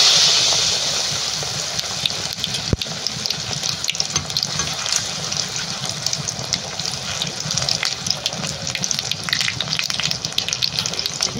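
Eggplant fritters (beguni) fry in hot oil with a loud, continuous bubbling sizzle. The sound is close and steady, with one sharp knock partway through and no voices.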